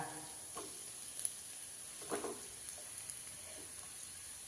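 Potatoes stirred in a hot frying pan while making aloo paratha, with a faint steady sizzle and a few soft scraping stirs, quiet and close, no talking.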